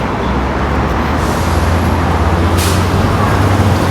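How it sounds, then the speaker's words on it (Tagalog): Heavy highway traffic in Almaty, Kazakhstan, a loud continuous roadway roar with a deep engine drone from a passing bus or truck and a brief hiss of an air brake, no talk. "Traffic."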